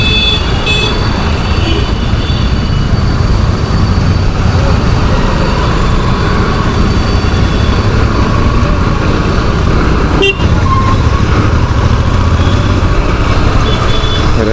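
Heavy road traffic in Chennai, a loud, steady roar of cars, trucks and motorbikes with horns tooting repeatedly throughout, heard close up from the road.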